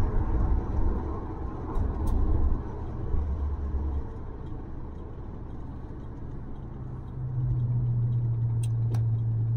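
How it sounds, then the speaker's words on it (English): A 1970 Dodge Coronet 440 with a 318 engine cruises down the road on a sunny day in Oregon, giving a steady low engine rumble and drone from inside the car, swelling slightly in pitch near the end. "Just a nice driving car."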